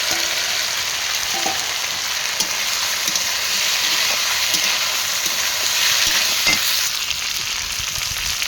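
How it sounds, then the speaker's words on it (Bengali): Already fried vegetables are tipped into a pan where ginger and green chilli are frying, producing a loud, constant close-up sizzle with faint stirring taps and no talking. "কাঁচা লঙ্কা দিয়ে একটু ভাজা ভাজা করে এবার দিয়ে দেবো ভাজা সবজিগুলো"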